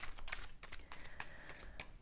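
Quiet, quick riffling and slapping of tarot cards being shuffled, a soft papery patter repeating close by.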